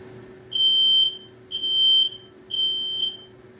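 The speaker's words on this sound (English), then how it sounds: "Testing the smoke sensor." Three evenly spaced, piercing high-pitched beeps from an X-Sense talking smoke alarm during a smoke sensor test, each about half a second long, with a faint steady hum underneath.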